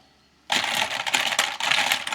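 Fast touch typing on a computer keyboard: after a brief quiet moment, a dense, rapid clatter of keystrokes close up, with one short pause in the middle.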